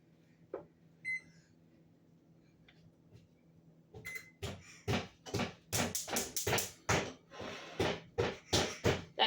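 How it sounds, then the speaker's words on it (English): Repeated loud bangs and knocks on wooden kitchen cabinet doors by a child, fairly close and irregular, starting after a few quiet seconds with faint beeps. "the noise you're hearing is my daughter banging on the cabinets right below us"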